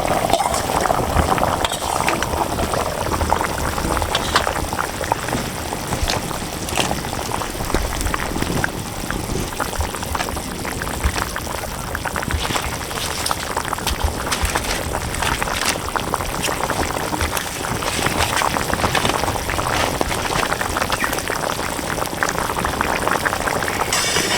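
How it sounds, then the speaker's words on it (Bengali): A thin Konkan fish curry with potatoes bubbles hard in a pot, a dense, steady, close boiling rush that continues throughout with no voices. "তরকারিটা সুন্দর জাল হয়ে গেছে।"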